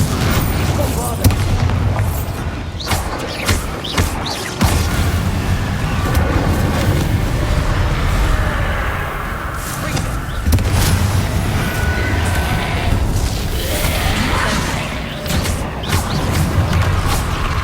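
Repeated booming spell explosions from the Hogwarts Legacy video game burst over continuous dense combat noise, with sharp blasts spread through the stretch and a voice occasionally calling out.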